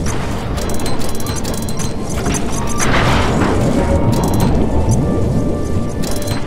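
Bomb blasts in the video game Sly 3: Honor Among Thieves, heavy rumbling booms and crashes running continuously at close, loud level, with a burst of debris-like crackle midway and no clear speech.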